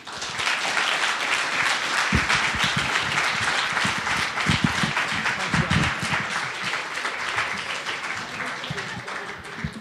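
Sustained audience applause fills a community storytelling forum, dense and steady for the full stretch with many hands clapping at once, some cheering voices mixed in, and no pause or fade.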